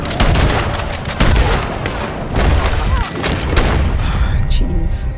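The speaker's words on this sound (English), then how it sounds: "Wow, he just shot a shotgun." Gunfire in the Western video game Red Dead Online during a king-of-the-castle PvP match, loud repeated shotgun blasts and booms dense throughout, with players' voices talking over the shooting.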